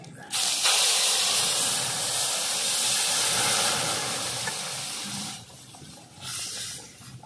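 Mung lentils tipped into hot oil tempered with dried red chillies, bay leaf and radhuni, bursting into a loud steady hiss of sizzle and steam that fades after several seconds, then briefly swells again.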